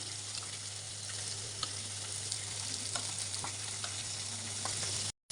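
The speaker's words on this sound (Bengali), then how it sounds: "দেশি মাগুর মাছগুলো একটু ভেজে নিব হালকা এই মাছগুলো এত ফুটে ঠাস ঠাস করে বোমের মতো ফুটতে থাকে" Deshi magur catfish frying in hot oil: a steady low sizzle with scattered sharp pops and crackles spread across the few seconds, fairly quiet and alone.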